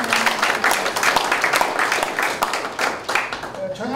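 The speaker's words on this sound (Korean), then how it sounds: "박수로 환영해 주십시오" Dense, steady audience applause fills a hall at an East Asia Special Olympics taekwondo general assembly, with a voice briefly rising over the clapping near the end.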